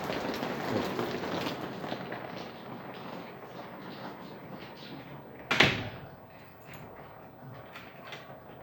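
Heavy hurricane rain hisses steadily outside a hotel in Puerto Escondido, with a sharp knock or door bang midway standing out briefly above the constant downpour.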